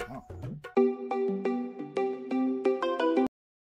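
A phone ringtone plays a short, bright electronic melody of rising and falling notes for about three seconds, then cuts off abruptly.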